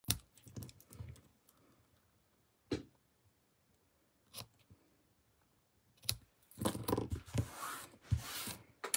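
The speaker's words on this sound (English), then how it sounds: "I'm going to snip these at an angle." Scissors snip across fabric strips for handmade holiday ornaments, a few sharp isolated cuts early on followed by a denser, louder burst of snipping and rustling near the end.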